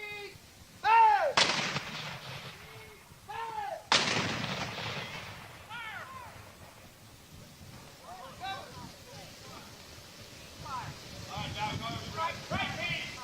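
Muzzle-loading cannons fire during an artillery gun drill, two loud booms a few seconds apart, each rolling away outdoors, with shouted commands and talk in between.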